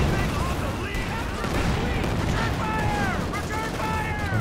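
Rifle fire and tank cannon shots crack and boom across a Company of Heroes 2 battle, a dense mix of bursts and blasts with a commentator talking throughout.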